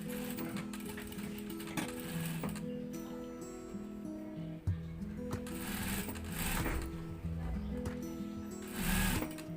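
A sewing machine stitches piping onto a blouse, its close mechanical whir running steadily with slight shifts in speed and small ticking pauses.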